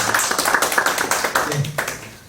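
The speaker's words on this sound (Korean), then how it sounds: "다시 한번 건국대학교 이현출 교수님께 큰 박수 부탁합니다." Forum audience applause for a speaker: a brief burst of many hands clapping in a hall, dense at first, then thinning out and fading toward the end.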